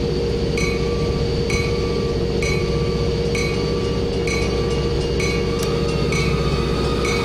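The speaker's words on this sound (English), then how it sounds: "Network rail train." A Network Rail train rolls past in Train Simulator, a steady loud rumble with regular metallic clinks and squeal-like tones repeating throughout, no voices.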